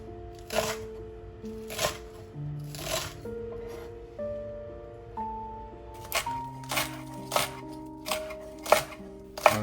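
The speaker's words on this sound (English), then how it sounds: "Slice the white part of the green onion and set aside." A knife slices the white part of green onions on a cutting board, with crisp evenly spaced chops landing roughly once a second, close and clear over soft background music.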